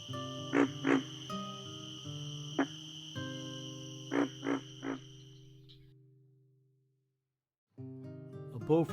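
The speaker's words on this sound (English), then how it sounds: "A bullfrog's call is recognized and remembered by its territorial neighbors" A bullfrog calls outdoors in Texas with deep, resonant croaks, some single and some in quick pairs, over a steady high insect drone. The calling fades into near silence before resuming loudly.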